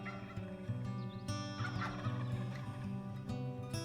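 Wild turkey gobble in the Wingspan board video game with its Asia expansion, a rapid, warbling gobbling call repeated a few times over a sustained musical background, clear and moderately quiet.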